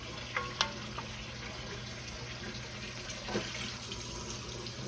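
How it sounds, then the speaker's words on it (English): Beef stock and hot water pour into a cooking pot for stew, a quiet, steady trickling stream with a couple of brief clinks and splashes near the start, without any voices. "And I'm gonna put some beef stock in there as well."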